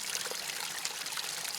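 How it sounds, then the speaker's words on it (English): Natural running water pours and trickles at a rock hole in the Australian outback, a steady and moderately close babble that continues without a break and with no talking over it. "And I've got fresh running water. Water on tap provided by nature."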